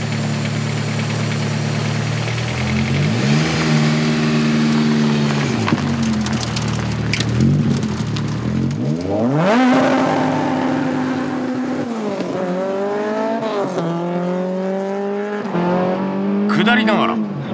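A car engine revs hard through repeated gear changes on a hill climb attack along a closed public road at Hachi Kogen, rising and falling pitch sweeps loud and close, with tire squeal and a voice commenting over it.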